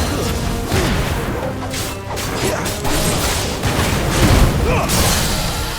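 Charge Fire attack in Final Fantasy XVI, a string of loud, close crashes, booms and whooshing blasts layered over game effects, with some speech mixed in.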